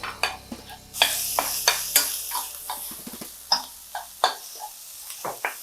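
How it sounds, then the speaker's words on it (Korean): Chopped green onion and garlic stir-fried in a hot pan, steady sizzling under repeated scraping strokes of a utensil against the pan, close and fairly loud with no talking. "대파 썰어 놓은 거 여기 넣고 볶아주세요."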